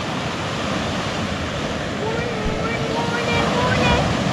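Ocean surf washing steadily along the shore at Yachats State Park on the Oregon coast, a continuous broadband roar that swells slightly louder toward the end, with wind and a faint voice in the background.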